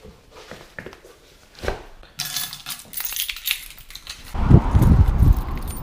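Keys jangle and clink in the hand before driving a modified Ford Transit Connect camper van, a few bright metallic rattles and a drop, followed by louder shuffling and handling noise close by.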